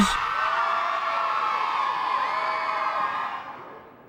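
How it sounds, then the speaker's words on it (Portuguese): A video game crowd cheers and whoops loudly in a steady, sustained roar that fades away near the end. "a Grifinória ganha, a galera aplaude"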